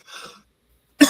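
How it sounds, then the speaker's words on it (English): A soft, breathy throat sound, a short silence, then one sharp, close cough from a person who smokes carts, with no talking. "they do give me the cough"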